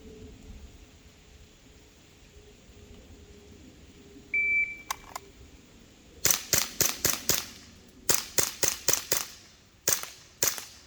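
An Umarex Glock 17 Gen5 air pistol fires at targets in two quick volleys of sharp, snappy pops, about six shots then five more, with a couple of stray shots after, standing out loud and clear over a quiet background.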